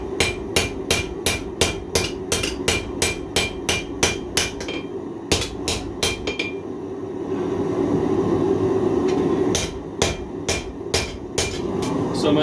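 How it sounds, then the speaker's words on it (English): A hammer strikes hot steel while a large cleaver is forged. The blows land loud and close in a steady rhythm, pause for a couple of seconds, then resume in quick repeated strikes. "And the right hammer for the job."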